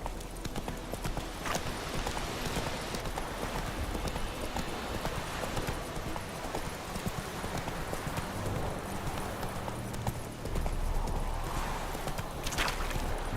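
Horse galloping in The Witcher 3: Wild Hunt, with a steady, fast clip-clop of hooves running throughout over a dense background of game ambience.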